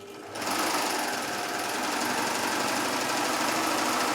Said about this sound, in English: the serger is threaded with the 4 threads in this case, because I need to make a seam, of course, in my belt. And I'm just going to make a really long chain